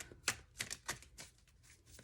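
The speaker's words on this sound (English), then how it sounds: "I always close my eyes or look away when I'm shuffling my cards" Tarot cards being shuffled by hand, giving a series of crisp riffling bursts at an uneven rhythm, close and fairly quiet, with no voices.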